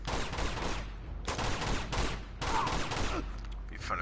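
Dense, loud gunfire from the Uncharted 2 monastery level rattles almost nonstop in sustained bursts, with brief dips between volleys.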